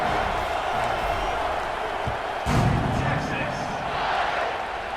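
Football stadium crowd roaring at kickoff after the home team takes the lead, a dense sustained wash of cheering with a sharper swell midway, continuous and loud throughout.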